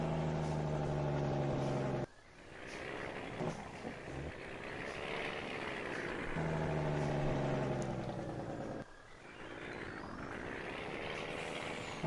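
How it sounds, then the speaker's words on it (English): Truck engine in Farming Simulator 19 on PS4, hauling a load of bales: a steady droning motor hum with two abrupt gear-shift breaks before the engine note climbs again, no talk. "It sounds great most of the time, but there's that little bit of in-between gear kind of shifting, it's a weird kind of noise."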